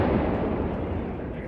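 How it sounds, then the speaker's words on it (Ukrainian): A large artillery gun fires in the field during combat, a loud, sustained booming roar that fills the whole short span with dense low rumble. "Постріл!"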